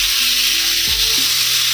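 Vegetables fry in a pan with a loud, continuous hiss of sizzling oil. A low hum from the kitchen sits underneath, and no one speaks.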